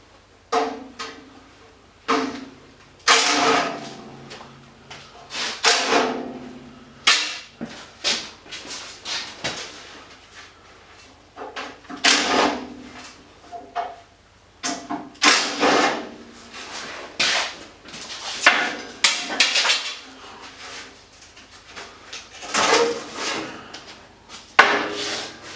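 The lid is worked off a large commercial transformer case being scrapped for copper. Irregular scraping, rubbing and knocking sounds come in uneven bursts with short quiet gaps, close by and with no talk.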